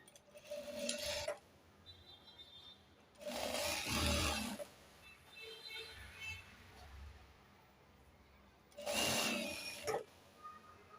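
A sewing machine stitches a ten-year-old boy's pajamas in short bursts, three loud runs of rapid mechanical chatter separated by quieter pauses with faint handling of fabric.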